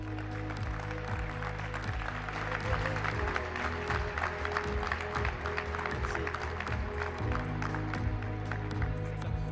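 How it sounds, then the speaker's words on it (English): Audience applause at a watchmaking salon's inauguration ceremony in Geneva, a dense, steady roar of many hands clapping that fills the whole stretch without pause. "A round of applause, please."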